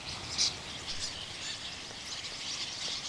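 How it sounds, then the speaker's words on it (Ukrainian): Starlings or rooks chirp and call at a marsh, producing a steady, distant chatter of many overlapping bird voices mixed with insect-like trilling and broadband outdoor hiss. "Шпаки чи грачі прилетіли грьобані."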